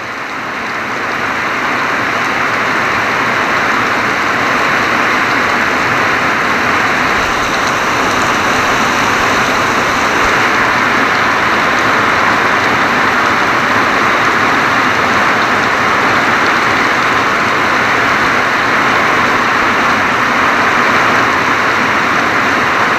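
Heavy tropical rain pouring steadily over a banana farm, a loud, dense, continuous roar with no breaks and no voices.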